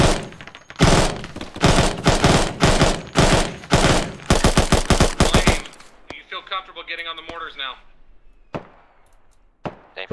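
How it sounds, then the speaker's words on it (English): Loud battlefield barrage in the military game Arma, enemy mortar fire among a rapid run of heavy booming impacts and gunfire for the first half, then a sparser stretch with a ringing tone, scattered thuds and a shouted voice. "Those are enemy mortars coming in now."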